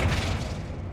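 A Flipendo spell impact lands in Hogwarts Legacy, a short, dense, booming thud with a muffled low rumble that trails off over about a second.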